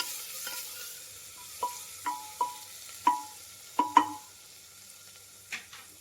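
Onion sautés in a pan over a faint, low hiss, broken by about eight sharp metallic clicks and taps as a spatula stirs it at irregular intervals.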